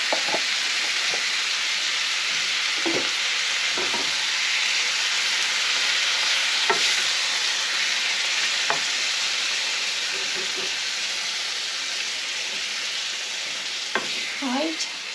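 Tomato passata for shakshuka goes into a hot pan and sizzles with a steady hiss, broken by occasional spoon scrapes and a few small pops and splatters.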